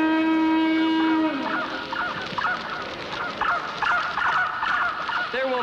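A conch shell horn sounds one long, steady, buzzy note for about a second before cutting off. Loud clucking and honking fowl then fill the rest of the clip.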